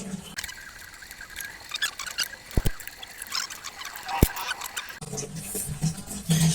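A scooter's CVT transmission runs rough after its one-way clutch was replaced, giving a faint rattling, scraping mechanical noise with a couple of sharp clicks and a low hum creeping in near the end.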